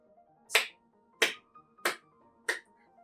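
Four crisp claps spaced roughly evenly over about three seconds, a simple quarter-note rhythm played alone by hand, close and clear with a soft sustained tone humming faintly beneath.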